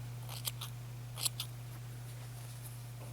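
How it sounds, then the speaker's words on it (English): Scissors snip through crochet yarn on a fringed bag in a few quick, faint cuts over a steady low electrical hum, with no voices. "we can cut off our yarn"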